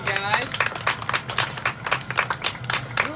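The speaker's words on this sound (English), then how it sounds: "Let's give him a round of applause, you guys." Applause and clapping in a glass-blowing studio after a glass mug is made, with a woman's whoop over the broadband clapping bursts; a voice speaks at the start.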